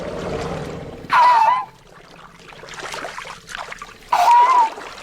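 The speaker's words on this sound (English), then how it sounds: "To reach the lush new growth means crossing the swollen river." Animals wading across a swollen, raging river, with bursts of splashing water and churning current, two louder splashes standing out over the flowing background; a narrator's voice is faintly present.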